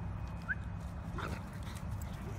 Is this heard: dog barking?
yes